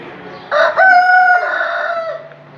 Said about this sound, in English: All the different types of chickens.